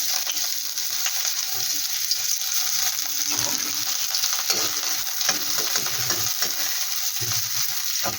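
A small chopped onion fries in a little oil, a steady close sizzle and hiss with soft scraping stir strokes scattered through it and no talking.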